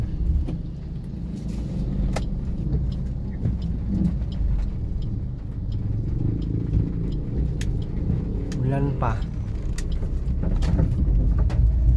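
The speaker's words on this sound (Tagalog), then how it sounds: "Grabing lagatok ng sasakyan." A car rattles and knocks steadily as it drives, its recently repaired parts already broken again; the low rumble runs throughout, with a brief voice speaking over it.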